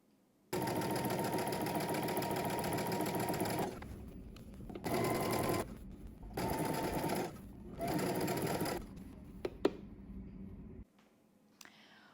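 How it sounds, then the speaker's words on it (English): A sewing machine stitches a double-fold hem around a flounce for a McCall's M8605 garment, running in a long steady burst and then several shorter runs with brief pauses before falling quiet. "I'm going to turn over and then turn over again and stitch all the way around."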